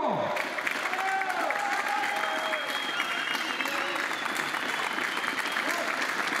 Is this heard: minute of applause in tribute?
yes